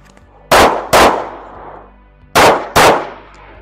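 Four loud SIG P320 pistol shots fired in two quick pairs during a drill, each crack sharp and close with a short ringing decay, separated by a pause of under two seconds.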